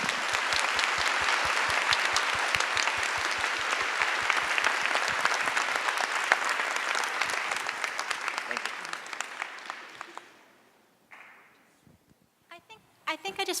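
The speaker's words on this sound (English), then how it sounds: "why don't we give them a round of applause again?" An academic conference audience at a plenary session gives sustained, dense applause that holds steady for about ten seconds, then thins out to a few scattered claps before dying away.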